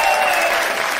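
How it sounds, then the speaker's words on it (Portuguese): Audience at a live comedy show applauding comedian Sérgio Malandro, a loud, dense burst of clapping that fills the whole brief moment. "Mais aplausos do Sérgio Malandro"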